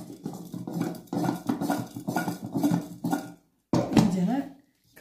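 A utensil stirs chickpeas and sauce in a pan on the stove, making a rhythmic run of scraping clinks against the metal that pause briefly, then resume for a few more strokes.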